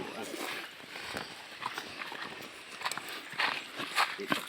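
Horse walking along a hiking trail, its hooves clip-clopping in an uneven rhythm that grows louder toward the end, under people talking nearby.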